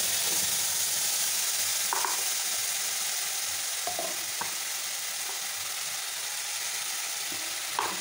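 A puree of tomato, garlic and ginger cooks in a hot pan with a dense, even hiss of sizzling oil, punctuated by a few brief scrapes and knocks of a utensil, close and without speech.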